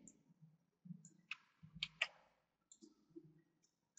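Several crisp computer mouse clicks sound close by in small clusters, with soft talk murmuring in the background between them.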